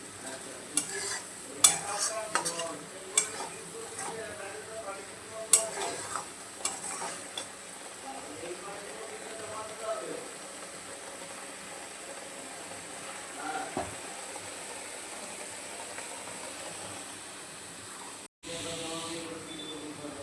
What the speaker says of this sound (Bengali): হলুদের কাঁচা গন্ধটা যাওয়া অবধি কষাবো